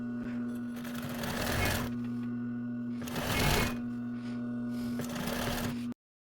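A sewing machine stitches narrow bias tape close to the edge on a homemade whiteboard eraser, running in three steady bursts with brief slowdowns between them, a constant hum beneath the rapid needle clatter.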